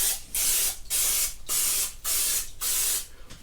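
Non-stick cooking spray hisses onto a non-stick donut pan in five quick, close, loud bursts separated by brief pauses.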